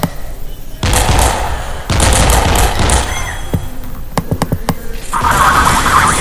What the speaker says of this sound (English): Let's show them our not so powerful cannons.